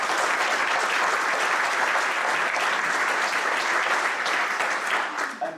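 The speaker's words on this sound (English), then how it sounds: "Perhaps a round of applause for everyone who's been involved to this part." A conference audience claps in steady, dense applause throughout, fading slightly at the end.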